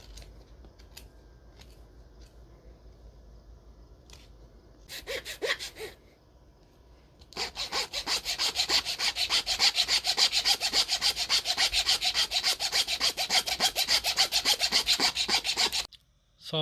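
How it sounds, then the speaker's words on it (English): A rasp and file shape a wooden handle for a Saami-style knife, giving rapid, steady rough scraping strokes that run loud and continuous after a few brief bursts and pauses. "So it is the rasp and file for me."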